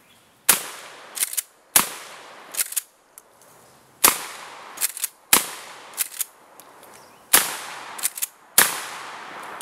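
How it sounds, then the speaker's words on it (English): Six loud, close 12 gauge shotgun blasts, one each of regular field load, low recoil buckshot, Remington buckshot and magnum turkey loads, fired at a steady pace about a second and a half apart, each sharp crack trailing into a short echo. "This is one each, regular field load first, the low recoil buck, the Remington buckshot, and then Magnum turkey loads."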